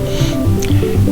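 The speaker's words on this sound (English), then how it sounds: "So we're just brushing it to make it nice and sticky." A brush wets chilled, firm cylinders of cookie dough with water, giving soft close squishy, slightly wet strokes over a low hum for about a second.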